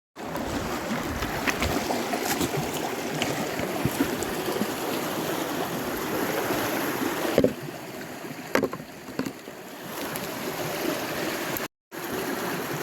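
Water sloshes and swirls continuously in a gold pan worked in a river crevice in Scotland, close and steady, with a few sharper splashes and knocks near the end.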